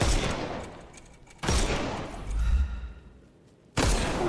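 Gunfire in Sherlock Holmes Chapter One as enemies' armour is shot off: three loud, sharp bursts, each a hard crack with a ringing, fading tail, separated by roughly two-second gaps, with no talk.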